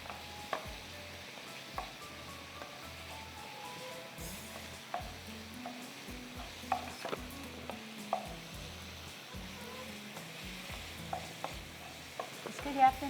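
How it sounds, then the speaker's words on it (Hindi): Chicken pieces fry in three tablespoons of oil with tikka masala while a spoon stirs them steadily, giving soft scraping and light clinks over a quiet, continuous sizzle. "3 टेबल स्पून ऑयल में चिकन को फ्राई किया है इटालिया के पॉमेस में।"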